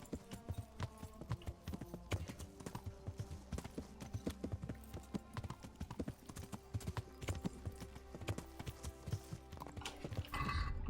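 Horse hooves in the medieval game Kingdom Come: Deliverance beat out a quick, steady clip-clop rhythm of a ridden horse on the move, close and distinct, with no one talking.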